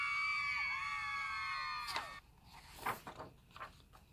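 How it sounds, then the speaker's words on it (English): A crowd-cheering sound effect in which a loud chorus of high, sustained screams and whoops from a wild crowd cuts off abruptly, followed by a few scattered shouts and thuds. "he could hear the crowd go wild this time."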